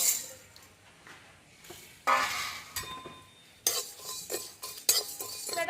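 Coriander, cumin, fennel, peppercorns and dried chillies dry-roast in a pan, with a metal spoon stirring and scraping in irregular clinks and scrapes, close and moderately loud over a faint crackle.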